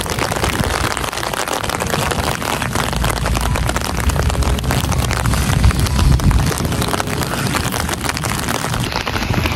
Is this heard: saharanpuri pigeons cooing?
no